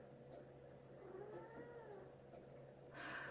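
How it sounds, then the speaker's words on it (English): A domestic cat meows to be let out, a faint drawn-out meow in a quiet indoor room with a steady low hum underneath, followed by a brief rustle at the end. "That was my cat who wants out right now."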